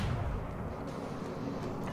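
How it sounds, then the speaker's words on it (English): Heavy battleship main guns firing in World of Warships Legends: a low, rumbling boom of naval artillery that fills the whole clip, a dense sustained roar rather than separate sharp cracks. "We unload the front guns at the Flander"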